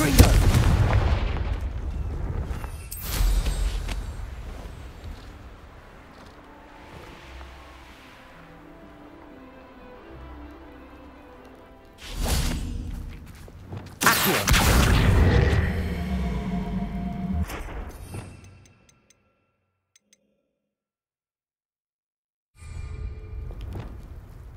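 Explosion spell blasts in the Hogwarts Legacy game, several loud booming bursts with rumbling tails that come at intervals over a steady background, then a silent gap before another blast starts.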